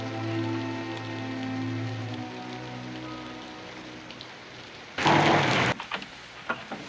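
Steady rain falls through a quiet night scene from a 1961 film, heard as a soft, continuous hiss beneath faint music, broken near the end by a brief, louder burst of heavier downpour or splashing.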